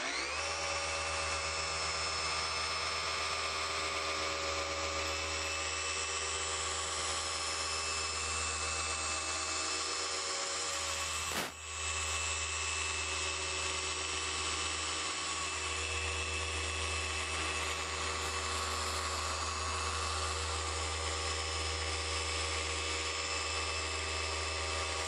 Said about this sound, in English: set it to speed setting 6, and start the polishing process.